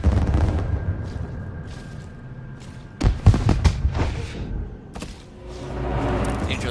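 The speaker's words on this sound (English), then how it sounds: "Yep, firecrackers are fun." Bursts of firecracker-like pops and bangs in the video game Dishonored, with a sharp cluster of cracks midway over a constant rumbling game background.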